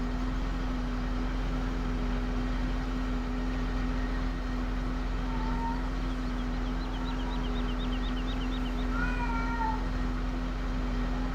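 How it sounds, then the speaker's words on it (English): A pet cat, agitated and wanting out, meows repeatedly, with faint, fairly close cries spaced a few seconds apart over a steady low hum. "Yes, he's meowing"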